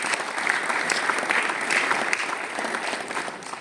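Steady audience applause fills the hall at the Paris Games Week press conference, a dense, even patter of many hands lasting throughout at moderate level.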